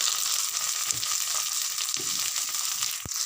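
Chopped tomato with chili powder frying in a pan, a steady bright sizzle with a few soft stirring knocks and one sharp tap near the end.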